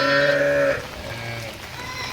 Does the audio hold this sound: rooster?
no